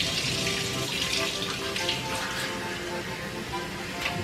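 Lukewarm water runs steadily from a kitchen tap while a cup is filled for pizza dough, a continuous close splashing hiss with no talking.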